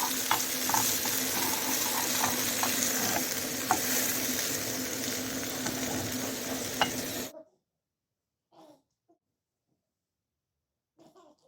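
Steady sizzling of tomato sauce in a frying pan with a spoon scraping and stirring through it, close and busy, then it cuts to near silence with faint small noises.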